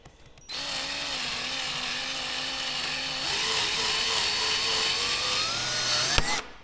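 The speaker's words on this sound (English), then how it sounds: "Had the drill set for putting screws in, not for drilling holes." A power drill set for driving screws whirs steadily for about six seconds, its pitch stepping up partway through, then stops with a sharp knock.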